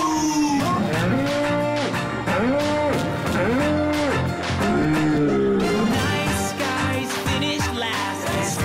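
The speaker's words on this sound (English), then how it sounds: "Cows go moo." A cow moos several times in repeated, drawn-out calls, loud and layered over dense, continuous music.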